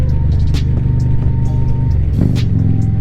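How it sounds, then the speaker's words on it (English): Harley-Davidson motorcycle fitted with a Khrome Werks exhaust, riding in traffic, its loud, deep, steady engine rumble close by with a brief rise in revs near the end. "I'm loving the sound again on my Khrome Werks, dude."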